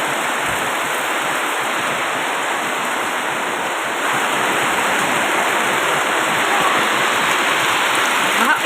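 Floodwater rushes steadily through a flooded area near a cemented spot, a loud, continuous broadband roar with no letup, a faint voice barely present underneath.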